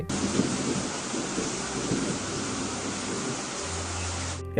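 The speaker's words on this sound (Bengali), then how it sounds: "কিছুদিন পর শুরু হয় বৃষ্টি। টানা 1 সপ্তাহ বৃষ্টি হতে থাকে।" A cartoon rainstorm with steady heavy rain and rolling thunder, a dense loud wash of downpour that holds for several seconds before cutting off abruptly, with no talking.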